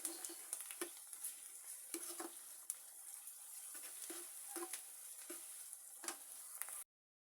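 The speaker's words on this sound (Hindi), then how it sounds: "और लहसुन को भी फ्राई कर लूँगी।" Garlic paste fries in a pan while fried chickpeas are being made, a soft, steady sizzle scattered with small pops and crackles, close but quiet, with no talk.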